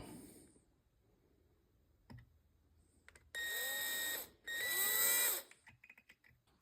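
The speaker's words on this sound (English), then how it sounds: "They take like an 1/8 inch drill bit and just drive it down a little bit." A small power drill with a 1/8 inch bit whirs in two short, high-pitched bursts, close by, with quiet pauses before and between them.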